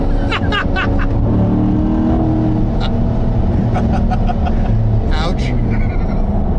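A Corvette accelerates hard, its engine holding a steady, loud drone throughout while people talk and exclaim over it inside the car.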